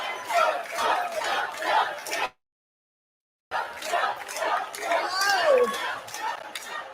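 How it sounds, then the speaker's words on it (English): Large crowd at a political rally yelling and cheering with music on, a dense roar of many voices in two loud bursts split by a short gap of silence. "Wow, what a great crowd."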